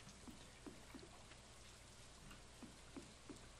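Rain falling in the Stardew Valley video game, a steady soft patter over a constant wash of noise with scattered droplet ticks, fairly quiet and with no voices.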